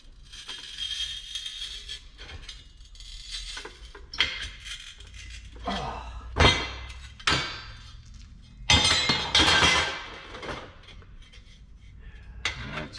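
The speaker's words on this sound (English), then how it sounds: "Get the tin snips. And let's see if I can't cut that." Tin snips cut through rusty metal on a grill. Close, irregular metallic clanks, snips and scrapes sound at varying loudness, with no talking.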